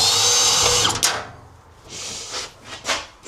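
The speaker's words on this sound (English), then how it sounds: "So let's get this last bolt out" A power drill whirs loudly for about a second while backing out the last bolt on a van seat during a campervan strip-down, followed by quieter clanks and scraping of parts being handled.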